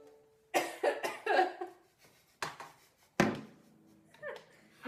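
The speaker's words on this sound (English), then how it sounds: "It's my beauty cough." Several sharp, loud coughs burst out in a quick cluster from a nearby person, followed by a few more scattered coughs and a throat-clearing sound at close range, with no talking over them.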